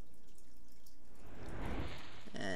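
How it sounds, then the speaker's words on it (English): A medicine bottle poured onto roses in The Witch's House makes a swelling liquid splash and trickle that builds over a second, close and fairly loud, ending in a brief sparkly chime. "Pour the medicine bottle on the roses."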